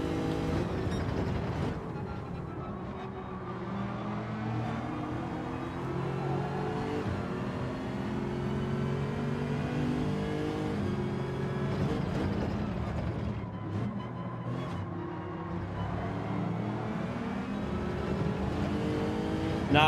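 A Lexus race car in Gran Turismo 7 pulls away under hard acceleration, its engine droning and rising steadily for about twenty seconds, loud and continuous with no talking.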